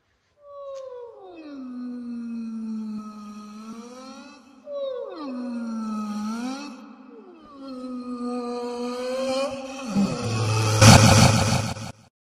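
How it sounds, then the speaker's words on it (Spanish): A cartoon black cat creature roars in three long, deep wavering moans that swell and fade, followed by a loud crashing burst at the end. "Entonces ese gato empezó a rugir."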